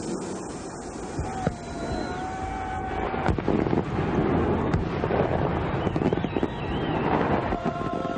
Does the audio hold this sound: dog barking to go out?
no